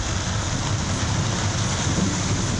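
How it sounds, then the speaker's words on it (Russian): Heavy rain pours down in Vlorë, Albania, a dense, steady hiss that fills the scene without a break and with no voices. "Дождь херачит как из ведра."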